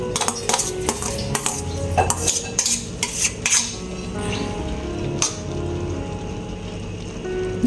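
A metal spoon stirs prawn biryani rice in a pot, giving sharp clanks and scrapes against the metal at an uneven pace, loud and close, with a softer stretch of mixing toward the end.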